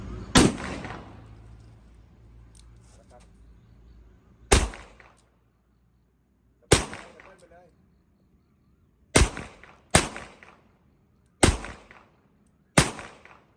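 A Stevens shotgun with a repaired broken firing pin, fired one-handed: seven loud, sharp bangs spaced a few seconds apart, each with a short ringing decay, and faint talk between shots.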